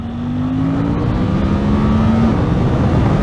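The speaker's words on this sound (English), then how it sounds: "So I'm going to downshift into second here and roll into the gas." A Suzuki GSX-8R motorcycle downshifts and pulls hard at full throttle, its engine note climbing steadily over a dense rumble of intake and road noise, loud and close throughout.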